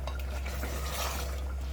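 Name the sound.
stirring cashew paste into mutton korma in a pan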